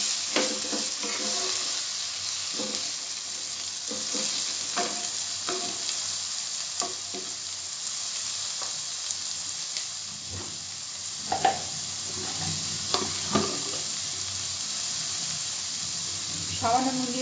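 Chopped tomato added to browned onions sizzles in a pan, a steady frying hiss broken by spoon scrapes and stirring clatter throughout.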